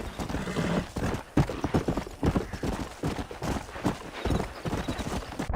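A Kentucky Saddler horse in Red Dead Redemption gallops along, its hooves beating a brisk, continuous rhythm up close, broken by a short snort or whinny.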